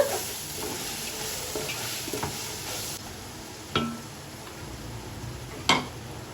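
Chili powder frying in oil for a mutton biryani, a soft, continuous sizzle with a few sharp clicks of a spoon against the pan, fairly quiet and without any talk.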